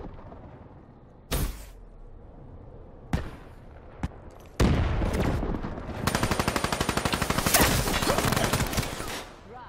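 Bursts of SMG gunfire in the Black Ops 3 match on the Metro map: a few sharp isolated shots early, then loud sustained rapid automatic fire filling the last half, close and dense.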